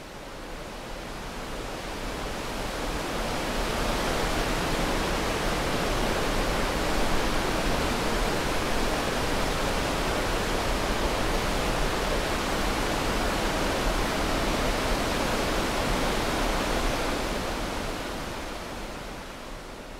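Steady, full rushing of water pouring down a waterfall into a cave, a dense even roar that swells in gently at the start, holds constant and fades at the end, with no voices.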